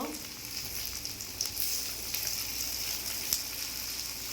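Onions frying in a pan for an okra and prawn dish, a steady hiss of sizzling oil with faint scraping and small crackles throughout, fairly close and without talk.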